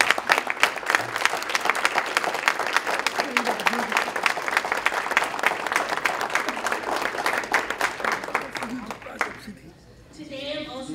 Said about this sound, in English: everyone give a round of applause to the staff